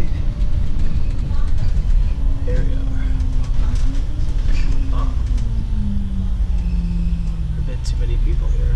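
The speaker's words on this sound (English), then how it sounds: "whenever this train decides to stop and open its doors" A Hong Kong metro train rumbles loudly as it slows to a stop, its deep running noise joined by a descending electric-motor whine. People talk over the steady roar.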